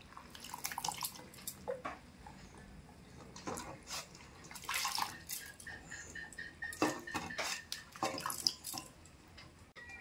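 Chopped bottle gourd is washed in water, giving soft close splashes, drips and sloshing with occasional light clinks of a bowl or plate, quiet and irregular with no talk.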